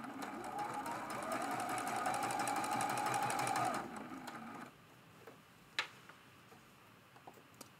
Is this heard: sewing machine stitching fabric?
yes